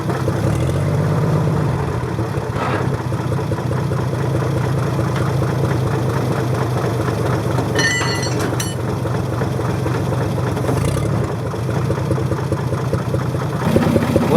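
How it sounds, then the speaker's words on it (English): A 1942 Chevrolet G506 truck engine idles steadily with a low, even rumble and a faint mechanical rattle throughout. "Now I'll fire up the truck"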